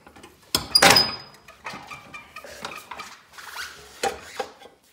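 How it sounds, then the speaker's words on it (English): Metal clicks and clanks as the latch is pulled free on a Bradley mower's two-wheel sulky, a sharp ringing hit followed by scattered rattles and knocks while it is lowered, close and moderate. "I can pull the latch and unlatch it and get it down."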